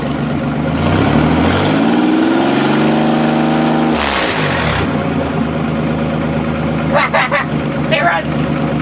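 Nissan 300ZX Z31 engine running just after its first start following a rebuild with rebuilt valve lifters, revving up loudly and close, then dropping back to a steady idle, while a voice speaks over it.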